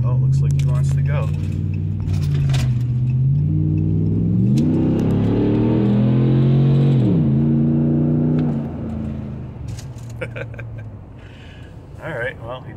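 A Hemi-powered Ram 1500 races a Dodge Durango R/T side by side. The engine rumbles loudly and revs up through gear changes before easing off near the end, with voices talking over it.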